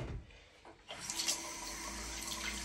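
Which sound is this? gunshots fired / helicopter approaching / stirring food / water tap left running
water tap left running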